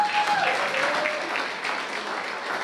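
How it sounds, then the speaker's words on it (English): Clapping from the crowd at a live hip hop jam, a moderate burst of applause that gradually thins, with a faint held tone early on. "a round of applause for him as well."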